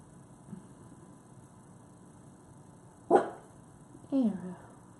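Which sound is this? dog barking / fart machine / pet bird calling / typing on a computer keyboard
dog barking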